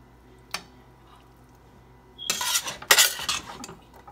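A spoon scrapes and clatters against a skillet as spaghetti and rotini casserole is scooped in, a single clink followed after a pause by a loud, busy run of metallic scraping and dish knocks, close up.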